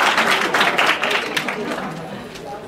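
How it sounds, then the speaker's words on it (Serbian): A conference audience at a CFO and controlling congress applauds, a dense burst of clapping that swells and then gradually thins and fades. "aplauz za naučare"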